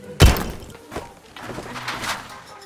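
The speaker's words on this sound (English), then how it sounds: "Yep, hello, bird." A bird in the video game Crane In The Forest: a sharp thump near the start, then a few soft, faint bird calls or coos spread over a couple of seconds, with no speech.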